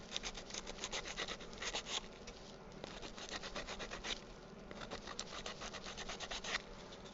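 Sandpaper rubs rhythmically across a wooden pipe stand to remove burn marks, a quick repeated scratchy rasp heard close up with no talking.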